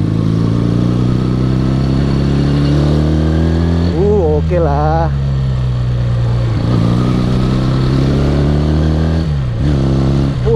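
A 1976 Honda CB 200 Twin motorcycle drones steadily while being ridden, its engine tone dipping and rising briefly with throttle changes, heard close beneath someone talking.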